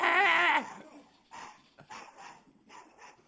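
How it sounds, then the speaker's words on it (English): A small chihuahua snarls and barks in a loud, harmonic burst up close, then quieter broken growls and yaps follow over several seconds as it chases off intruders, with faint voices in the background. "Raw chihuahua chases off robbers."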